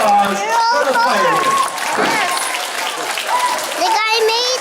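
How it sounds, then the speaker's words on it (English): An audience of children and adults applauds after a colored-flame fire demonstration at a science centre, clapping mixed with excited young voices and chatter, fairly close and lively. "How about a round of applause for the fire?"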